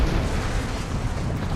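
An explosion goes off during Batman Arkham City gameplay as a loud, dense, low-heavy rumbling roar. It stays steady and boomy through the whole short stretch and is heard alone.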